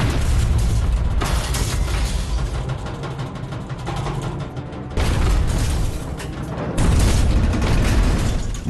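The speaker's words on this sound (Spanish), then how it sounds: "Otra serie de cargas de profundidad." Repeated heavy booms of depth charges exploding around a WWII submarine, deep rumbling blasts that swell and roll on one after another, loud and close with no pause between them.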